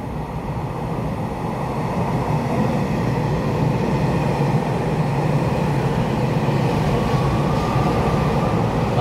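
A twelve-car EMU3000 intercity express train pulls away from Qidu station on a test run along the Western Line, giving a steady, loud rumble and rolling roar that stays even throughout, with no talking.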